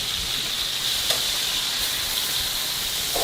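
Beef searing in hot oil, a steady close sizzle and hiss that holds evenly throughout with no talking.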